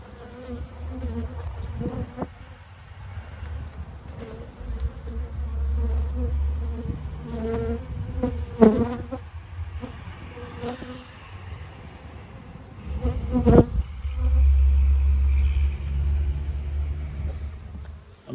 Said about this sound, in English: Now, this is where the bees have been clustering more,